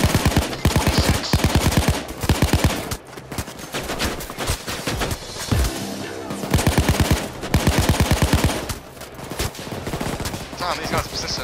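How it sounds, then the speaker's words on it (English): Rapid, continuous bursts of chain-gun fire in the Payday 2 heist shooter, during a police assault, loud and sustained with brief pauses between long volleys, mixed with other gunfire and game noise. "Chain guns."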